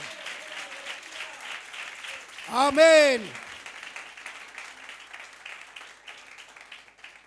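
A church congregation at a faith-healing service claps in a sustained, moderately loud wash, while a single voice briefly rises above the clapping partway through.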